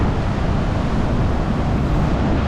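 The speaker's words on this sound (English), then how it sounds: "It's pretty windy now." Strong wind buffets the microphone at a fishing spot outdoors, a steady loud roar of gusting rumble that fills the whole stretch with no talk.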